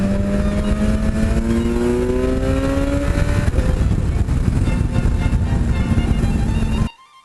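Motorcycle engine noise on the Blue Ridge Parkway while passing Harley-Davidsons, with a loud, steady roar and wind buffeting and engine tones that shift in pitch as the bike accelerates, ending abruptly.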